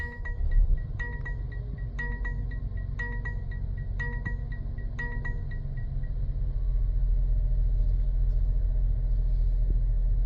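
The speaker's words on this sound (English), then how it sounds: "So you can go ahead and start the vehicle now." 2023 Mercedes-Benz GLA250 engine starting and settling into a low steady idle rumble, preceded by a series of regular electronic chimes, close and continuous with no speech.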